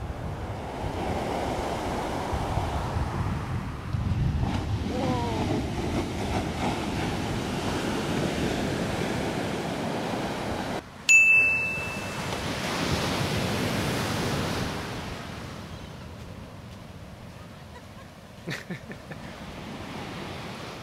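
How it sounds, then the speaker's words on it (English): Pacific Ocean surf at Paradise Cove in Malibu, California, rushing far up the beach slope as a steady, loud roar of breaking waves with wind buffeting the microphone and a brief sharp knock partway through. "Man, that power of the Pacific Ocean."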